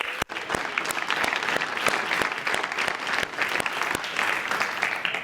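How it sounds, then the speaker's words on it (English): Conference audience applauding steadily for about five seconds, a dense wash of hand claps at a fairly even loud level with no talk over it. "Big applause for yourself, guys."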